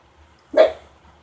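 A single short bark from a dog somewhere in the background, sudden and fairly clear against an otherwise quiet room.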